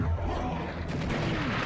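A dense, continuous rumble of shotgun blasts from the video game Serious Sam in co-op play, loud and close, filling the whole moment with overlapping booms.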